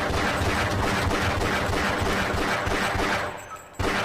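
Automatic turret gunfire in the Half-Life video game on PS2, a loud, rapid continuous burst of shots that fades briefly before a sharp final blast.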